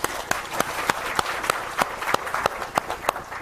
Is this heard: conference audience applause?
yes